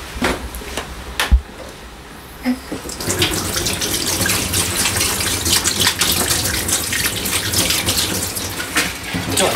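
Water running from a kitchen tap for hand washing, starting with a few clatters and then a loud, steady close gush filling and splashing in the sink without pause.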